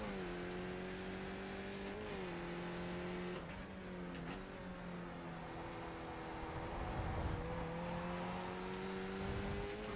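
Truck engine in the iRacing sim at USA International, holding a steady sustained drone with only slight pitch shifts, loud and continuous, sounding down on power.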